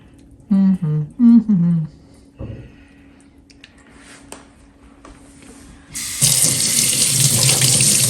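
Kitchen tap water runs steadily into a sink as hands are washed while meatloaf is being made, a loud broadband rush starting partway through after a few brief sounds and a stretch of quiet.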